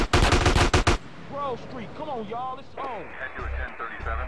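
An AK rifle fires in GTA San Andreas on PS2 during a gang territory fight with police. A loud, rapid automatic burst comes first, then someone talks over quieter game sounds.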